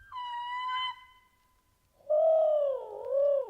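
A man imitates an owl call to locate turkeys on public land, a short hooting note followed by a louder, wavering scream-like call, close and clear against a quiet outdoor background.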